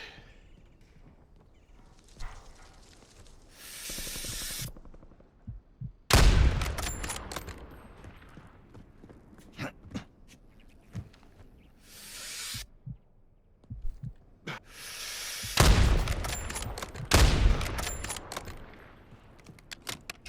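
Bursts of gunshots from the player's weapon in the shooter Warzone, several loud clustered volleys separated by quieter gaps, close and sharp.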